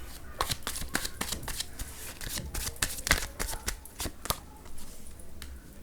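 Tarot cards are shuffled and drawn close by, making a quick run of crisp flicking and snapping card sounds in an uneven rhythm, with a faint voice underneath.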